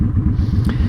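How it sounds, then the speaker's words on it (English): A Honda Shadow motorcycle fitted with a Cobra Streetrod exhaust and a carburetor needing tuning rumbles close and loud at idle, its deep, lumpy rhythmic pulses broken by uneven pops. "So if you can hear that popping, the old exhaust did that too."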